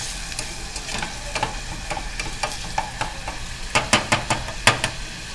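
Onions sizzling in a pan for Haitian white rice, a steady soft frying hiss broken by irregular scraping strokes of a spoon as they are stirred, close up with no talking.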